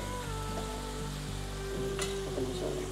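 Spices tempering in hot oil for Indian gooseberry (amla) pickle, a steady close sizzle and crackle with light stirring clinks throughout, no talking.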